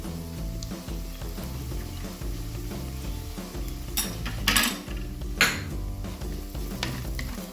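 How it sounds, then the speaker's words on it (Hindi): Mutton fries in a clay pot with a constant close sizzle, broken by a few louder bursts of stirring and scraping against the pot. "थोड़ा सा फ्राई करते हैं इसको।"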